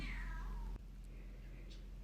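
Six-week-old Ragdoll kittens meow in a drawn-out, high, descending cry up close, followed by a sharp click and a quieter second mew over a steady low hum.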